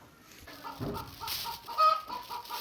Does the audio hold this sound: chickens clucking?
yes